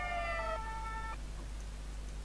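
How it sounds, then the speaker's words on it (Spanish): Emergency vehicle siren from the Emergency 4 video game with Barcelona mod, a steady electronic tonal wail that cuts off after about a second, leaving a constant low engine hum underneath. "tú muévete ya sin sirena"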